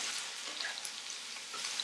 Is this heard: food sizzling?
yes